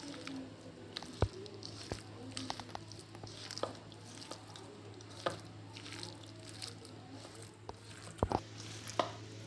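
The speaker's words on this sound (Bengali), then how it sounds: "ওটসটা দিয়েও খুব ভালো করে এটা মিশিয়ে নিচ্ছি।" A soybean, egg and oat mixture is worked by hand in a bowl, giving quiet wet squelches and irregular soft taps over a low background hum.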